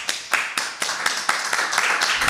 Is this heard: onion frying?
no